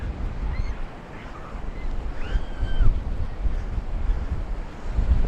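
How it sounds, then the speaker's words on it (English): Indian Ocean surf breaking along a foreshore with steady wind, a continuous rushing wash with gusty microphone buffeting and swells of louder wave noise, no voices. "Nice bit of surf waves here."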